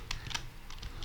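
Keys on a computer keyboard tap in a quick, short burst of several crisp clicks, close and fairly quiet, with no voice over them.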